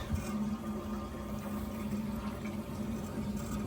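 Small pump drawing water through a spring-wire hose on a cold plunge setup, giving a steady close-up liquid churn with a low hum running continuously and evenly throughout.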